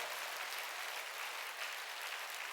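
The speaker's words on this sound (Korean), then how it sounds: "박수 치라고요, 세게요." A church congregation clapping hard at a Sunday worship service, a dense, even wash of applause that stays steady throughout at a moderate distance.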